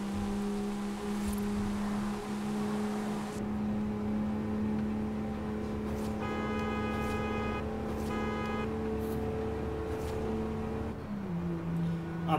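Steady in-cabin engine drone of a Land Rover Defender in the racing game Forza Horizon 5, holding a constant hum with slight shifts in pitch and no voices.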